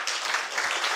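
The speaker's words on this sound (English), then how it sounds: "Let us clap for them." Audience clapping at a morticians' conference and exhibition: a brief, continuous burst of many hands clapping together, moderately loud and steady throughout the short moment.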